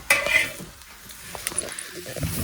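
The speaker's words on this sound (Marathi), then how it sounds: "चिकनसाठी तर कांदा भाजत आहे" Onion roasts over a wood-fired stove for chicken masala, giving a brief crackling sizzle mixed with a few sharp metallic clinks of a utensil against the pot.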